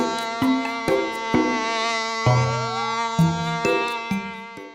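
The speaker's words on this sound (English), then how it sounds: "then you have to bring me Moboro, the hornet." A cartoon buzzing hornet for an animated African folktale about Ananse and Moboro the hornet. A bright, harmonic, insect-like drone comes in repeated pulses with small pitch swoops, clear and alone.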